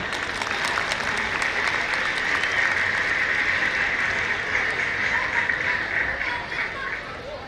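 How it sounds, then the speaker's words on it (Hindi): Sustained applause from a large crowd at a school annual sports day fills the whole stretch, steady and loud before tapering slightly at the end. "जोरदार तालियां"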